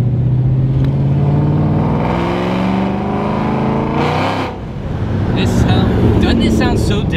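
Ford Shelby GT500 with a new supercharger and X-Force exhaust drives along, its engine note rising and falling loudly throughout while voices talk over it.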